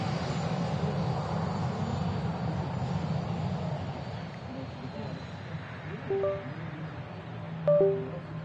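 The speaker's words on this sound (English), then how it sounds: "There's a Finnair Embraer on the roll now." A Finnair Embraer jet rolls for takeoff, its engines a steady distant roar that holds throughout, with a few faint short sounds near the end.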